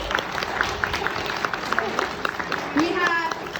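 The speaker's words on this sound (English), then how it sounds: "So let's give a big round of applause, Abby and Jonas." Audience applause at an opening speech for a summer show-and-tell event, moderate and continuous with crowd murmur and voices talking over it.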